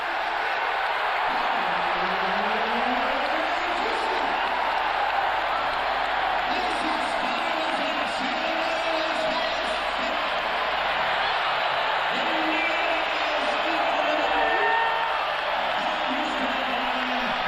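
A packed arena crowd at the 1999 Eastern Conference Finals Game 6 between the Knicks and Pacers roars in a steady, loud wash of cheering and whooping, with a commentator talking over it throughout.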